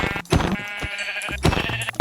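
Sheep in the Minecraft video game bleating in a few short, close, loud calls separated by brief gaps.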